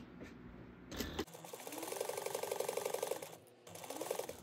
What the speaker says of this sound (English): we're gonna sew our zipper onto our lining, or the pocket lining